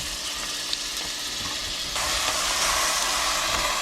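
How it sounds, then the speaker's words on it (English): Ground turkey and vegetables hit hot oil in a pan, giving a loud, steady close-up sizzle and hiss that swells louder partway through as more goes in, with no talking. "Hopefully you can still hear me over the sizzle."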